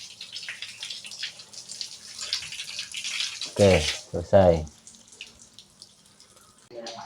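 Tap water runs into a sink for rinsing during a washing demonstration, a faint steady flow under a man's speech, with two brief louder bursts of voice near the middle.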